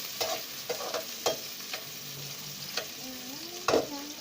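Onions and green chillies fry in a pan for village-style aloo methi, while a spatula scrapes and clanks through them in about seven sharp, evenly spaced strokes over a soft, steady sizzle.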